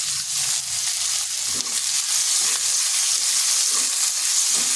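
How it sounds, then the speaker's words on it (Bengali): A large onion, sliced into long strips, sizzles in hot oil over tempering spices for pui shak and fish. The frying hiss is steady and close, with faint stirring scrapes throughout. "পেঁয়াজটা একটু ভেজে নেব"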